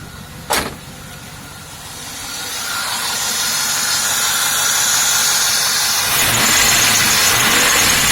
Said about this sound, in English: Hear how my car's running.